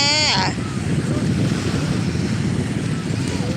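Sea waves wash steadily at Sai Kaew beach in Chonburi, a broad, continuous surf roar mixed with wind buffeting the microphone, and a brief voice is heard at the very start.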